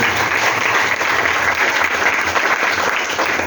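Loud, sustained applause from an audience at a gathering, a dense continuous wash of many hands clapping at an even level with no speech over it.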